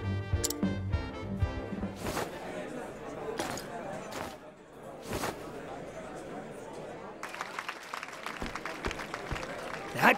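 Crowd applause in the video game Octopath Traveler 2 comes after a dance performance, with sharp claps and scattered cheering. Game voices talk over parts of it and the volume swells and drops.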